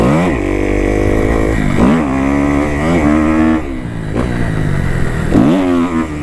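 A motorcycle accelerates hard in fourth gear on the NCMP race track, its engine pitch climbing repeatedly through loud, close revving sweeps, the bike running with a broken inner clutch cover.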